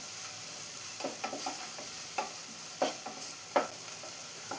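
Onions for soya cutlet sauté in a pan. A steady sizzle runs throughout, broken by a few sharp scrapes and taps as the spoon stirs, with no voices.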